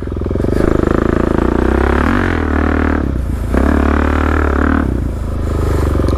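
A Suzuki DR-Z400 dirt bike fitted with a Black Widow exhaust, out on a muddy trail, gives a loud, close, steady engine drone that swells and drops with a few throttle blips and no talk.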